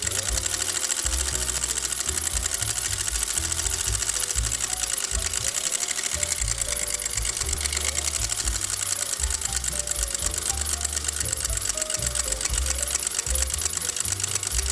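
A sewing machine stitching a buttonhole in fabric, a steady fast mechanical whir and rhythmic clatter running continuously at close range, with no talking.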